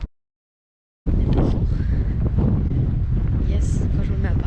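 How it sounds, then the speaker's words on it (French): Wind buffeting a microphone outdoors in Copenhagen, heavy low rumbling gusts that start suddenly after a second of silence and continue loudly, with a person talking underneath. "quand je me mets à parler, il y a du vent"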